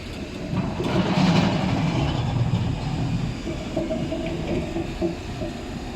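A train on Japan's Oigawa Ikawa Line rumbles steadily along the rails, a loud continuous roar with faint rhythmic clatter, no voices.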